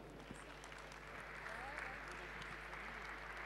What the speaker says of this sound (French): À chaque fois, vous applaudissez Éléonore Laloux.